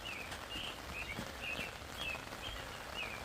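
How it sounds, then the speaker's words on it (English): Steady rain falls outdoors at Cunningham Falls State Park in Maryland, a faint continuous patter with a bird chirping repeatedly in the background. "It's raining, everybody."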